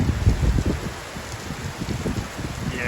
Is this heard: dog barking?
no